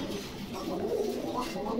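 Pigeons coo softly at a Bangladeshi pigeon market, a low murmuring sound that runs steadily through the short stretch against a busy background.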